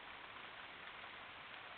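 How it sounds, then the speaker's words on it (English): Light rain begins falling in a rose garden, a faint, even hiss of drops spreading steadily with no voices. "It's just starting to rain now."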